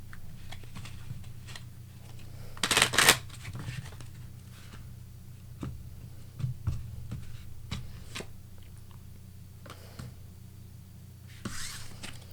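Tarot cards are shuffled and handled near the mic as a series of soft, irregular slaps and riffles, with one louder burst of flicking partway through, over a steady low hum and no speech.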